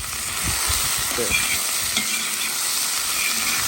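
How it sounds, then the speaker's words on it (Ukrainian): Chopped onion sizzles steadily in hot oil for Ukrainian goulash, with a few soft scrapes of a spoon stirring it early on, close and continuous with no talking. "І мішаємо так, щоб підсмажити до золотого кольору."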